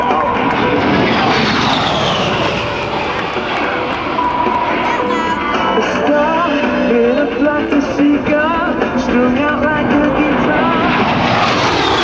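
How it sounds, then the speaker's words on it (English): A-10 Warthog jets from the Massachusetts Air National Guard pass at a Rhode Island Air National Guard airshow, a loud, continuous engine roar filling the air with a shifting pitch as they fly by, and a public-address voice speaks over it. "A-10s are inbound, and flying the A-10 Warthogs"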